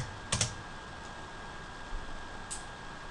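Faint, close keystrokes on a computer keyboard: a short cluster of clicks near the start, then sparse single taps over a quiet room hum, with no talking.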